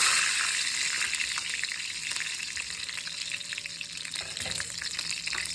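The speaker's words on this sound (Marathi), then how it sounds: "3 चम्मच तेल गरम झाल्यानंतर जिरे, थोडीसा कढीपत्ता" Cumin seeds and curry leaves crackle and sizzle in hot oil in a pan, a dense, close frying hiss that runs throughout with scattered pops, strongest at the start and easing slightly.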